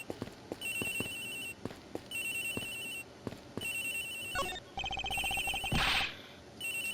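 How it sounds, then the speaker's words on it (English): Cell phone ringtone in a school-style locker from the video game Ace Attorney Investigations, repeating in regular bursts with soft footfall-like thumps underneath, then a brighter chime flourish near the end, with no talking. "It's got to be the victim's cell phone."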